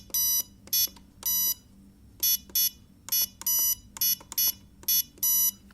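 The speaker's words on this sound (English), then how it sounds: "So it gave me a beep" Bright electronic beeps from a CX20 drone's speed controllers during calibration sound in irregular bursts, some short and some longer, repeating close up against a quiet low hum.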